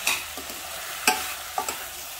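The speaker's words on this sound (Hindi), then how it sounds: "चावल डाल के चावल को भी थोड़ा सा ना हिला लेंगे" Uncooked rice is stirred in a hot cooking pan, giving three or four quick scraping, sizzling strokes, close and clear with no voices.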